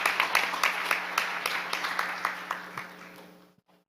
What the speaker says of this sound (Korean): 박수 한번 치면서 말씀 한번